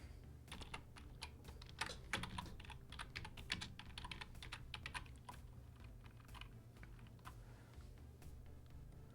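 Someone typing Python code on a computer keyboard, a steady quiet run of rapid key clicks with short pauses, over a low constant background hum and no talking.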